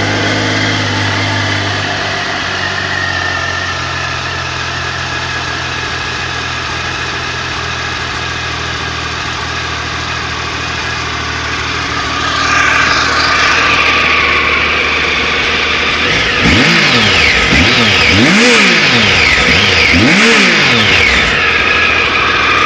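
A 2002 Triumph Tiger 955i motorcycle cold-starts and settles into a steady close idle, then is revved hard several times in quick rising and falling blips, loud and without talk.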